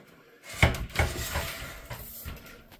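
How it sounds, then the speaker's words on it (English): Plastic track of an RV shower door being slid off its doors, giving a couple of close knocks followed by a scraping, rattling slide that fades out, with no talking. "if you take this track and just slide it on by, like that"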